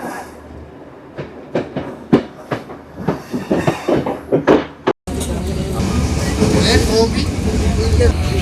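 A train on Sri Lanka's northern railway line toward Kankesanthurai rumbles and clatters loudly in rhythmic bursts, then gives way to a continuous roaring rush of noise after a brief cut, with voices heard amid the din.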